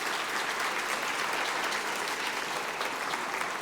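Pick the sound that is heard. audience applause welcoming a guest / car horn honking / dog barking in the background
audience applause welcoming a guest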